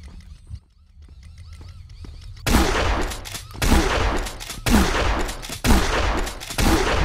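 Shotgun blasts from Zompiercer boom in heavy, evenly spaced volleys after a quiet opening, each burst loud and close with a brief pause between.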